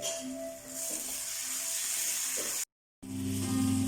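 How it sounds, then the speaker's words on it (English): Spices and onions fry in a pan for an egg curry, producing a continuous close sizzle and hiss with faint stirring, briefly cut to silence before the frying resumes louder. "Now our spices are nicely mixed in our onions"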